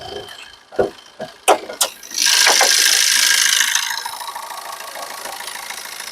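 A 2014 Maruti Swift Dzire VDi diesel engine idles, then a few quick throttle blips lead into a sustained rev that swells loud for about two seconds before easing back toward idle, with no talk.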